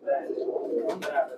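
Pigeons cooing at a busy pigeon market, soft throaty coos repeating close by, with faint market voices and a couple of short rustling bursts mixed in.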